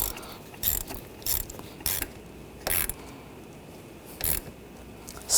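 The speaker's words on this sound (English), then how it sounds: "And we'll tighten down the clamp." A hose clamp is tightened with a ratchet in the engine bay of a Buick Encore, six short bursts of clicking ratchet strokes at a steady pace, close and crisp, with no speech.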